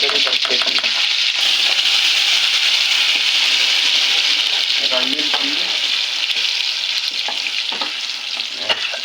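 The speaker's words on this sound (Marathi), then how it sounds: "तर फोडणी भारीच पडलेली आहे" Spiced oil tempering (phodni) sizzles loudly and steadily in a hot pan while a fish gravy is cooked Konkan-style, a constant bright crackle with faint sputters throughout.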